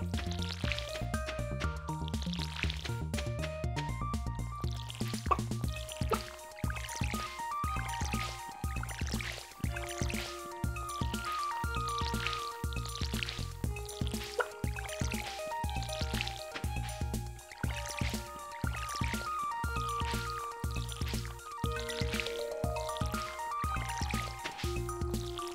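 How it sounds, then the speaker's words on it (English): Repeated short watering splashes in the farming video game Stardew Valley as corn crops are watered, soft liquid drips and squishes recurring rhythmically over steady game music with no talk. "So just water the corn."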